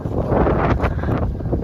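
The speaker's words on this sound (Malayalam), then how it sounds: "നല്ല കാറ്റ്, എക്സ്ട്രീം കാറ്റ് പറക്കുന്നുണ്ട്." Strong wind blows outdoors in a steady, loud roar buffeting the microphone, with no talk.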